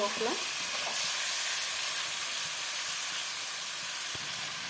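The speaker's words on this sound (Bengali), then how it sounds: "দিয়ে দিলাম চিকেনটাকে ভালো করে কষাবো" Chicken sautéing in a pan with tomato, salt and cooked-down masala for a desi chicken curry, a loud, continuous sizzle and hiss from start to end, with a few soft stirring touches early on.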